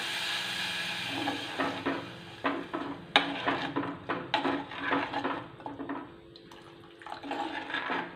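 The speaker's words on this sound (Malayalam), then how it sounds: "ഇനി ഇതിലോട്ട് കുറച്ച് വെള്ളം ഒഴിക്കുക" Water poured into a pan of raw mango curry seasoned with fenugreek powder and salt, giving a steady splashing pour with scattered clinks and stirring knocks against the pan, close and fairly loud, no talk.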